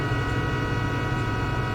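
BN intermodal freight train in Train Simulator, a steady loud rumble of engine and rolling wagons with droning tonal hum, continuous and close throughout.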